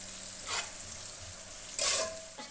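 Two medium chopped onions frying in a pan for a potato chilli dish: a continuous hiss of sizzling oil with brief scraping bursts as the pieces are stirred, no voices.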